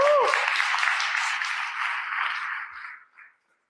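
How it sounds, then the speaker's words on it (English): Round of applause from a workshop audience, a dense steady clapping wash that holds for about three seconds, then thins and fades out to silence. "Let's give him another round of applause for that"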